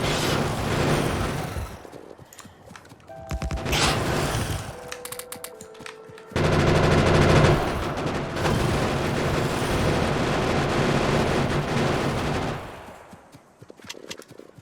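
Gun turrets in Factorio firing at biters, dense rapid bursts of automatic gunfire that stop and start, with a long sustained barrage in the middle, loud and close with no talking.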